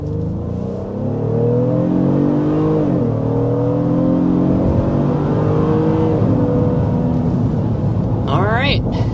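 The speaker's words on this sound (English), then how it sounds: "taking off to about 60 miles per hour. And of course, you can hear that growl of a V6." A 3.5-liter V6 SUV engine accelerates hard up to about 60 mph with a loud, continuous growl whose pitch climbs steadily, dips briefly at a gear change, then rises again.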